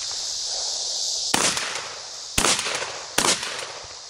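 Gunfire from a .22 LR pistol and a 12-gauge shotgun at a run-and-gun match, with three sharp loud shots spaced about a second apart over a faint background hiss.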